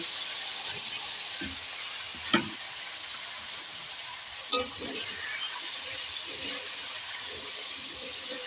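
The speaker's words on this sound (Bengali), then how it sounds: "তেলটা হয়ে গেছে গরম আমি এবার তিল বাটাটা আমি ভেজে নেব" Ground sesame paste frying in hot oil in a kadai for a pumpkin greens dish, with a steady soft sizzle and a couple of brief clinks and stirs, close but quiet.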